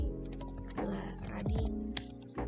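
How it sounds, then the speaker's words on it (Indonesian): Rapid keystrokes on a computer keyboard while text is typed into a Microsoft Word document, a close, steady run of clicks over a continuous tonal background. "Kemudian teman-teman mulai ketik"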